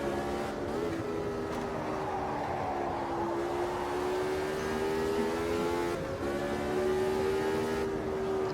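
1983 Formula 1 race cars, a Ferrari among them, in the racing game Automobilista 2 at the Italian Grand Prix: a loud, steady high-revving engine whine that climbs in pitch as the car accelerates, with brief dips at gear changes.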